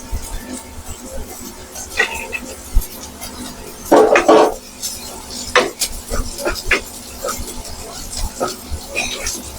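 Sliced onion goes into a pan for black fried rice and gets stirred, with scattered metallic clinks and scraping of a spatula on the pan, one louder burst of clatter, and talking nearby.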